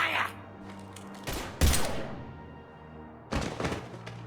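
Bursts of gunfire from the Mass Effect 3 video game, set during a Citadel side mission: several sharp, loud volleys separated by quieter stretches, with scattered game voices underneath.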